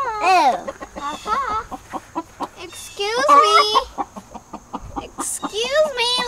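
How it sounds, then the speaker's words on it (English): Chickens cluck and squawk close by in a backyard coop during chicken care, with repeated loud bursts of clucking interspersed with quieter pecking calls and some brief voices nearby. "Excuse me, little chicken."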